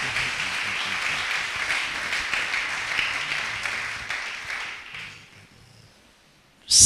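A church congregation bursts into applause and cheering, a dense sustained wash of clapping that fades over several seconds into near quiet before a sharp loud burst at the end.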